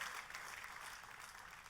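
Lively applause from a church congregation during a worship service, a faint, continuous wash of many hands clapping at a distance without a break.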